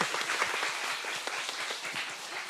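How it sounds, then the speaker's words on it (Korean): An audience at a book concert claps in a short burst, with individual hand claps audible in a fairly close, lively wash of applause. "박수 한번 드릴게요"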